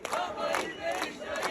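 A crowd at a street protest in Korçë, a dense roar of many voices with rhythmic pulses that may carry clapping, loud and close throughout this short burst.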